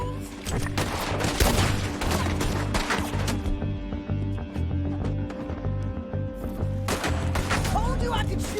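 Rapid gunfire in Red Dead Redemption 2, loud close shots cracking in quick irregular volleys over a dense battle din, with voices talking among the shots.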